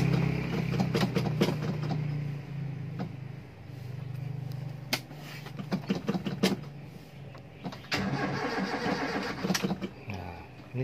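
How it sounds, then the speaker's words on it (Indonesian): A Toyota Kijang Super engine is cranked with the starter motor, giving a steady low churning whir broken by repeated sharp mechanical clicks and bursts, loud and close, with brief speech at moments. "Coba kita starter ya."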